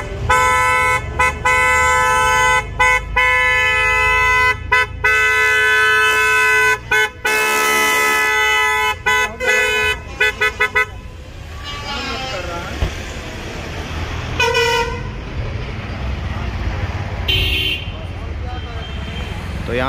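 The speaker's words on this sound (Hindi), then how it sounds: "तो यहाँ पे क्रेटा का हॉर्न लगा है जो कि आप आवाज़ सुन नहीं लिए अभी" A loud Hyundai Creta horn fitted to a Maruti Suzuki Brezza honks repeatedly in short and long blasts, close by, then gives way to quieter traffic-like noise with a couple of brief toots.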